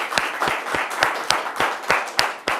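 A studio audience on a French television talk show claps for itself: loose, moderate applause with sharp individual hand claps standing out in a steady rhythm.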